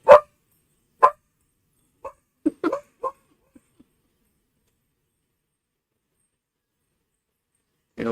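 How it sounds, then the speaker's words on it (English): A dog next door barks in short, separate bursts, a few sharp woofs followed by softer yips with long quiet gaps between them, then one more bark at the end. "One dog has to bark next door"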